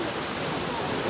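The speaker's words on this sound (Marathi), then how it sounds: "सोन्या कसं वाटतं तुला धबधबा बघून?" The Ozarde waterfall pours in a steady, dense roar of rushing water, loud and close, with no break across the short moment.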